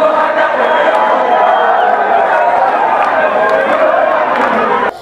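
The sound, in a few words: crowd cheering with shouts of joy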